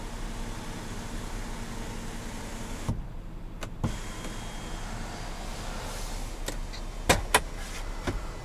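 A motorized panoramic sunroof on a 2022 Nissan Pathfinder Platinum glides open inside the parked cabin, a steady low electric motor hum with a few brief clicks and thumps from the mechanism near the end.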